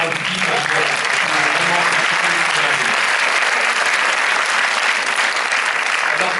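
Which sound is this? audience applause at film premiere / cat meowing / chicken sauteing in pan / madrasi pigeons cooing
audience applause at film premiere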